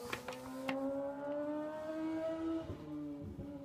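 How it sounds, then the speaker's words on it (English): A car speeding up a residential street: an engine revving and accelerating with rising gear pitch, heard from a moderate distance, fairly quiet, with a couple of sharp clicks near the start. "if you guys ever hear cars going up my street really fast in my videos"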